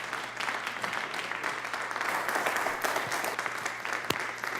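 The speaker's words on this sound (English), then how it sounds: "can we give a round of applause to our guests?" An audience applauds guest speakers at a community talk on chaplaincy, steady sustained clapping filling the room at moderate loudness with no speech over it.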